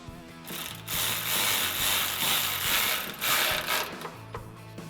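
A ratchet drives a 10mm socket to tighten a hanger bolt on the frame of a 2011-2014 F150 5.0L during a Roush exhaust install, making rapid, close pawl clicking in several bursts of near-constant ratcheting across the clip.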